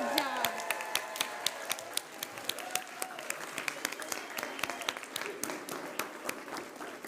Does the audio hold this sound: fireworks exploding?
no